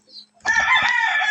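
A rooster crows loudly and close by in a rural farmyard with chickens around. A faint short cluck comes first, then a single sustained crow runs to the end.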